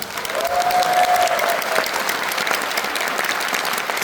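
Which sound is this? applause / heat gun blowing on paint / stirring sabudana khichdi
applause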